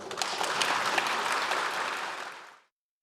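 Sustained applause from a large audience in the National Assembly chamber during a presidential policy address, dense and steady for about two and a half seconds before cutting off abruptly.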